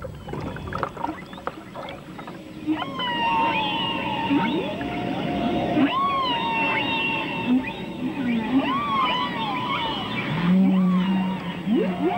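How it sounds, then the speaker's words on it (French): Humpback whale song recorded underwater off Salt Cay in the Turks Islands: long rising and falling moans and whoops, loud and repeated, with one voice after another over a low watery hum. "Sous l'eau, le chant des baleines est vraiment fort."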